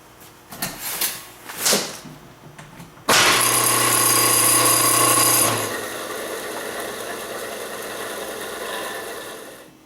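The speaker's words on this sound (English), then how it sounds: "Motor's working properly, and now I've got a spare motor for my air compressor." An electric air compressor motor, just fitted with a replacement stationary switch, kicks on abruptly after a few handling knocks and runs with a steady loud hum and whine, which eases to a lower constant drone partway through.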